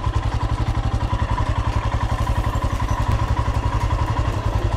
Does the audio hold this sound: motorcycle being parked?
yes